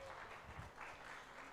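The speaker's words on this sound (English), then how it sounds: "Another round of applause for our graduates," Audience applause for graduates at a media fellowship graduation ceremony, a soft, steady patter of many hands clapping at a distance, faint throughout with a low murmur underneath.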